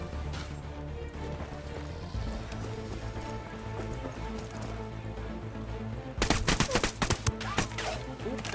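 Gunfire in Ghost Recon Wildlands, a sudden loud cluster of sharp shots after a stretch of steady game ambience and music.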